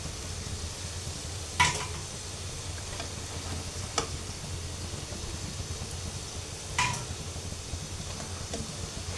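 Semolina and yogurt pakoras fry in hot oil with a soft, steady sizzle, broken by a few brief clinks of a spoon against the pan.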